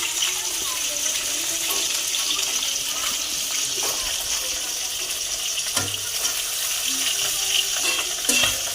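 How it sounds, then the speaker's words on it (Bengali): A fish fries in a pan, a continuous close sizzle with scattered spatters and occasional clinks of a turner as it is flipped, holding steady throughout. "মাছটা প্রায় উল্টে পাল্টে দিয়েছি, প্রায় ভাজা হয়ে গেছে"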